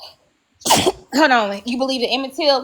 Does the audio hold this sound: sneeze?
yes